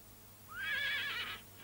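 A horse neighs once, a rising whinny that peaks and then trails off, loud and close, with no talk over it.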